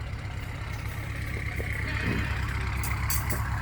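A farm tractor engine runs nearby at a low steady rumble, a constant deep drone with faint clatter and a few brief higher sounds near the end, no clear speech.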